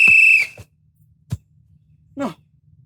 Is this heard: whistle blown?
yes